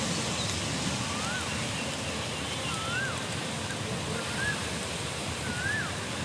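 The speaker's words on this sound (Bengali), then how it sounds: "অনেক বাতাস।" Strong outdoor wind roars steadily as a broad, rushing wash with gusty buffeting against the microphone, continuous and loud throughout, with faint high whistling tones and no speech.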